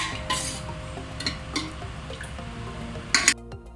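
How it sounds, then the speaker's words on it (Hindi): Cooking oil poured into a pan while preparing a beef meatball curry masala, giving soft liquid trickling and faint dripping with a few brief louder splashes near the end, close and quiet. "ये हम ऑयल शामिल कर रहे हैं, मसाला बनाने के लिए ऑयल शामिल कर रहे हैं।"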